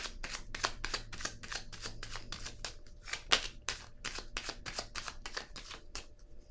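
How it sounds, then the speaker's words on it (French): Tarot cards being shuffled and laid down, a rapid series of crisp riffling and slapping card sounds in close succession, near and fairly quiet, with no talk over them. "Je vais déposer une autre carte."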